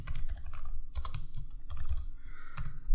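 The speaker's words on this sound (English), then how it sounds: "So type your first name" Fingers tap out a name on a computer keyboard in quick bursts of close, crisp clicks, with short pauses between clusters of keystrokes.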